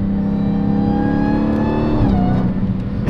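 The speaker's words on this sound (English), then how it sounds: "I was trying to see if it would make noise on a downshift." A supercharged Dodge Challenger SRT Hellcat with an aftermarket intake revs hard with a rising, whining tone, then dips and drops in pitch on a downshift, loud and close throughout.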